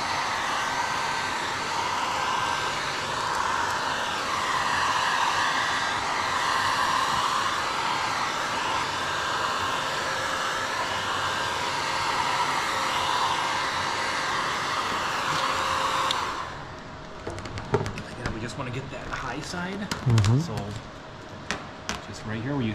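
Heat gun blows a steady loud whir while vinyl wrap on a car is warmed, then cuts off for sharp handling clicks and squeegee sounds near the end.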